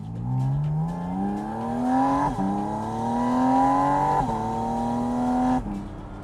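Lamborghini sports car engine, a Tecnica or Spyder RS, revs repeatedly, with pitch climbing through several rising sweeps that break between runs, loud and close, heard alone.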